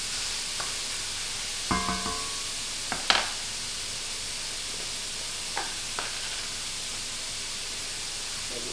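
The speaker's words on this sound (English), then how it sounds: "We're going to brown the meat just a little bit" Beef browning in a pan for empanada filling gives a steady, close sizzle, broken by a few sharp clinks and scrapes of a utensil against the pan.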